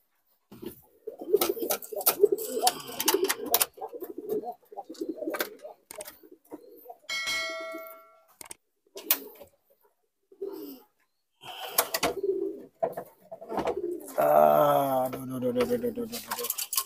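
Pigeons coo in short, scattered bursts close by, with a longer throaty coo near the end. A person talks intermittently between the calls.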